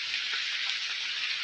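Monsoon rain at Tiger Point in Korba, Chhattisgarh, falls as a steady, even hiss of drops striking surfaces, continuous and unbroken throughout, with no voices.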